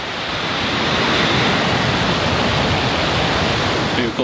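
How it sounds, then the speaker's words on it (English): A Falcon 9 rocket lifts off with a loud, steady, broadband roar that fills the whole stretch without pause. "Ignition and liftoff."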